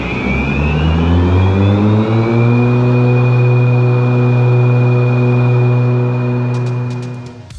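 A Ryobi 54-inch battery-powered electric zero-turn mower with a 115 amp-hour battery runs steadily, giving a smooth electric whine with layered tonal hum that holds level, then fades near the end.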